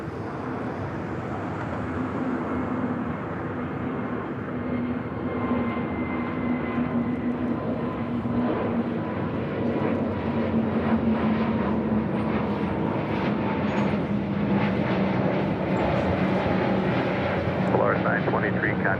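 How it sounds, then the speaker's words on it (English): A Volaris Airbus A320neo takes off from LAX, its engines giving a long, steady, distant roar that swells gradually over twenty seconds, with faint background talk beneath it. "This is Voladi's 923 taking off to Zacatecas on an A320neo, the Barbie livery."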